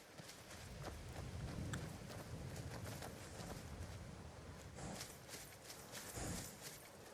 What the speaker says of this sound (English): Is my horse still fighting someone?